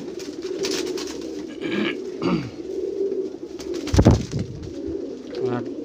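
A jira red-eyed pigeon keeps up a throaty, continuous cooing close by, punctuated by several short rustling bursts and one louder flap or knock.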